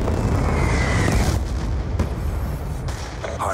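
A Hellstorm missile strike in a Hardpoint match of a shooter video game: loud, heavy booming detonations and rumbling blasts that roll on and gradually decay, with no voices over them.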